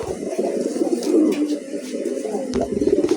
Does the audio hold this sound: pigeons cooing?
yes